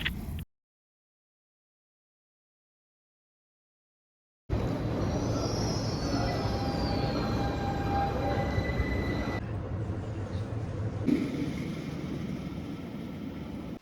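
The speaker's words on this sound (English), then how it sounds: "The train just left." After a few seconds of silence, a train departs in the Swiss mountains at Les Casses, rumbling and rolling on steadily, a continuous heavy rushing noise that carries to the end.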